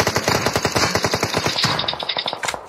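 Rapid automatic gunfire in a shooter video game rattles out in a dense, fast burst of evenly spaced shots, loud and close, lasting nearly three seconds with no voices.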